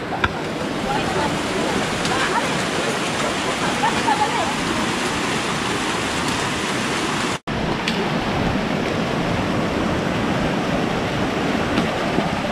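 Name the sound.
heavy rain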